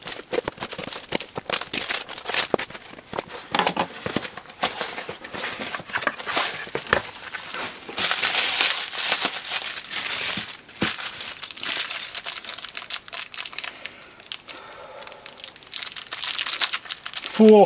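Someone cuts open a taped-up parcel with an ordinary knife, giving a run of crinkling, tearing and rustling packaging noises, fairly close and steady with a louder burst midway.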